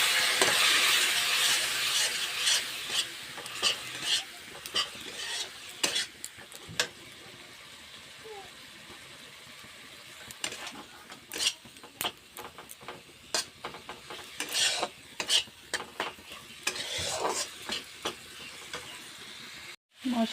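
Spice masala with chilli powder and a splash of water sautés in a pan for a tender bottle gourd dish: continuous hissing sizzle with frequent ticking spatula strokes, close, easing into softer scattered taps toward the end.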